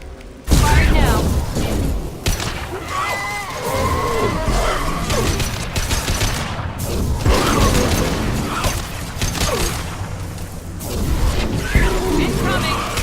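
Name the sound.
weapons firing in Mass Effect 2, a video game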